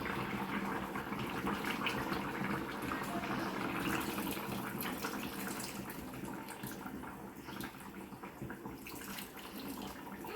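Soaked tamarind water poured into a kuzhambu of dry prawns, brinjal and drumstick, a steady liquid wash running continuously up close, with no one speaking.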